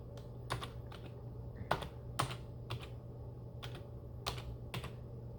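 Scattered keystrokes on a computer keyboard typing diacritics, irregular taps and clicks at a moderate distance over a low steady hum.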